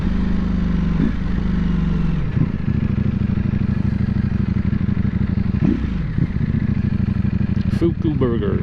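A 2022 Ducati Panigale V4S motorcycle engine runs loud and close through a break-in ride, holding a steady throttle with several brief dips and recoveries and a few clattering knocks near the end.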